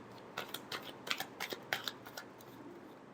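Tarot cards being shuffled, with a quick series of soft riffling snaps and flutters, close but faint against a quiet background, without any talk.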